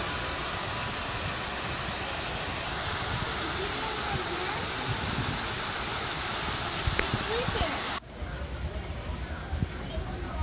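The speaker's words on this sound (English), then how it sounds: "Ooh, waterfall." Steady broadband rush of a waterfall with constant water roar, close and loud, with people talking softly over it and a sharp drop in level near the end.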